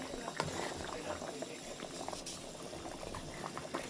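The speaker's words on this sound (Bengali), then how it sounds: "একটু ফুটুক, তারপরে আমি চেক করব।" Shorputi fish gravy bubbles steadily in a pot, a continuous close gurgling boil with small pops and a brief tapping sound, no voice over it.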